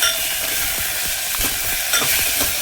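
Salted tomatoes sauté in a hot pan, giving a loud, continuous sizzle broken by scraping, knocking stirs of a spoon against the pan, close up and without voices.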